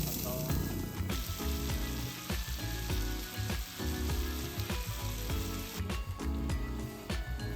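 Loud, continuous sizzling of crab cooking on a charcoal grill at a campsite, with crackles and pops throughout and faint clinks.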